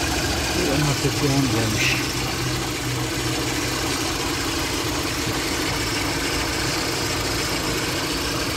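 An old Lada car engine idles on petrol, a steady low rumble running throughout, with a short word spoken near the start.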